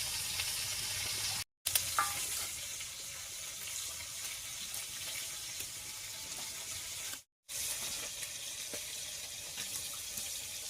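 Singi fish frying lightly in oil for a fish curry with potatoes and onion stalks, a steady broad sizzle running throughout with two brief dropouts, close and even, with no talking.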